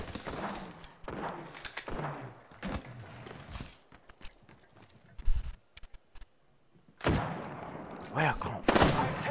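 Gunfire in the Apex Legends battle royale game, sharp bursts of shots cracking out in short clusters amid game sounds, with players talking between them and heavier volleys near the end.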